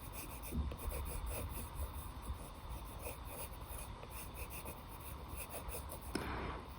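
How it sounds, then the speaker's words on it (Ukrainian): A pencil scratches across paper while drawing a horizontal line, a soft steady rubbing sound that continues close up with a brief louder stroke near the end. "малюю ось таку а, горизонтальну лінію"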